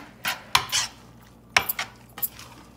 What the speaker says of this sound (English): Okay, and now we're gonna mix.